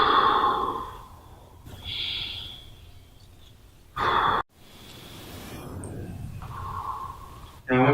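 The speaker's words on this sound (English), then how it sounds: "Take 3 deep breaths." Several slow, deep breaths are drawn in and released near the microphone, with soft airy inhales and exhales separated by quiet pauses.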